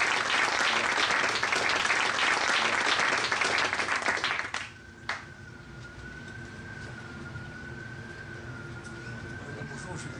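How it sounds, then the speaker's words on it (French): An audience applauds a speaker at a fintech startup talk on Bitcoin: steady, dense clapping for about four and a half seconds, then a sudden drop into a quieter room where a faint sustained tone lingers. "On l'applaudit aussi."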